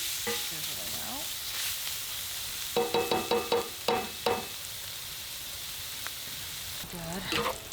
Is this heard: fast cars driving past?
no